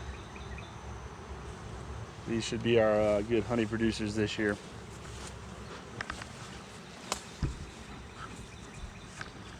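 Honeybees drone steadily around the hives during an apiary inspection, a low continuous buzz under a voice speaking at close range.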